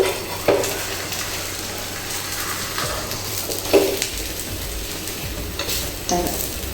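Maharashtrian matar thalipith roasting on a pan, second side down, with a steady close sizzle and a few light scraping clinks of a spatula at intervals.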